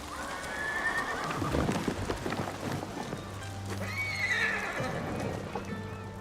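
A horse whinnies loudly twice in a video game, Ghost of Tsushima, with clip-clopping hooves and snorting in between, close and clear.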